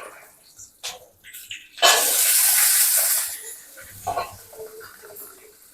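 Garlic drops into hot oil in a pan, followed by shallots. A sudden loud sizzle bursts out, holds for over a second, then fades to quieter frying with a few light clinks and a voice talking faintly nearby.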